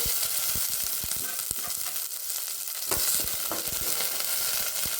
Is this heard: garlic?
yes